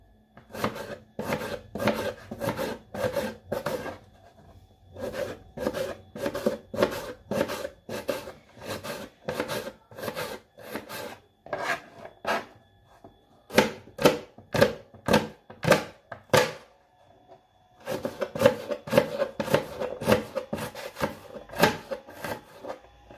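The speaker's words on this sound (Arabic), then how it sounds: "هلا بالبداية رح افرم البصلة." A knife chops an onion finely on a board in a home kitchen, a close, steady run of quick crisp taps in bursts with brief pauses between.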